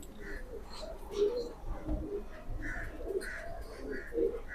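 Soft, repeated pigeon coos, several low throaty calls spaced out over a quiet background with faint murmuring nearby.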